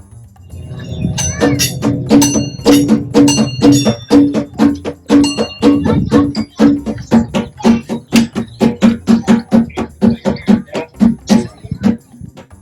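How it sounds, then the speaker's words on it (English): Outdoor playground bongos at a park are tapped in a fast, steady rhythm, dozens of short hollow hits with a slight pitch, close and loud with no one talking. "This park even has bongos."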